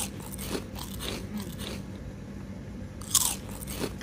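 Someone bites into crunchy adobo-style chicken feet and chews up close: a series of crisp crunches and wet chewing, with one sharp, louder crack near the end, and no speech.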